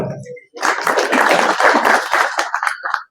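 Crowd applause for the police department at a temple chariot festival preparatory meeting, a loud burst of many hands clapping for about two and a half seconds, then cutting off.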